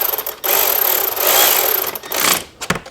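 A tool runs down the suspension bolts on a Yamaha R7 motorcycle, giving a loud, close, buzzing whir in bursts of about a second each with short pauses between.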